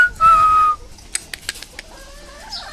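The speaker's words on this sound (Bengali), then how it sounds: "আর এই যে এখানে মুরগিগুলো দেখতে পাচ্ছেন, আলহামদুলিল্লাহ সবকিছু ঠিকঠাক মতো নিয়ে আছে।" Chickens on a small farm give a few brief clucks and short calls, fairly close, over a quiet background, with a steadier whistling tone near the start.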